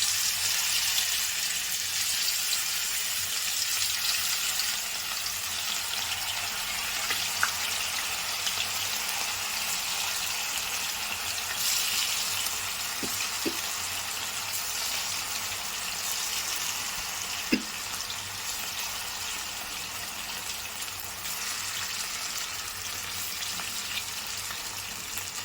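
Chicken pieces sizzle steadily in hot oil, a dense continuous frying crackle with a few soft pops, close and fairly loud, no voices.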